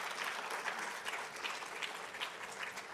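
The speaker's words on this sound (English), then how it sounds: "Please give her a round of applause." Sustained applause from a conference audience at a health care forecast event fills the room, steady and dense throughout with no speech over it.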